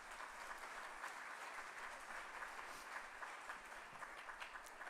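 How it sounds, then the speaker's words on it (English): A final round of applause for graduates at a college graduation ceremony, a soft continuous wash of many hands clapping, faint and distant, steady throughout with no voices. "A final round of applause to all the graduates before we close this event."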